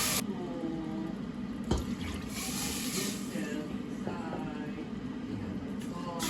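Water runs steadily into a cooking pot for corn soup, a continuous close splashing pour lasting several seconds, with a brief knock partway through and faint voices in the background.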